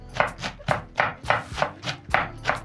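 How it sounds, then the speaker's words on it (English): A knife slices through half a cabbage on a cutting board in about eight quick, evenly spaced crunchy chops, close and clear, with no talking. "then I'm going to slice the next half"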